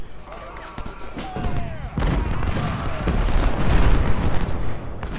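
Musket and artillery fire in the Civil War strategy game Ultimate General: Civil War, a dense, continuous rolling din of volleys and booms that builds in loudness, with a voice talking over it.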